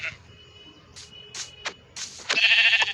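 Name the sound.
sheep bleating in Minecraft (video game)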